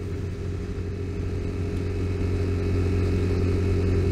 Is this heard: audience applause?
no